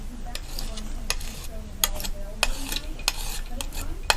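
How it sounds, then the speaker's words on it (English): Gray paint mixture being stirred, a run of scraping, clinking strokes against the container in an irregular rhythm, close and moderately loud. "We'll just keep stirring it up there."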